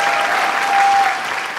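A studio audience at a televised singing competition gives musicians strong applause. It is a steady, full wash of clapping with a faint tonal note running beneath it.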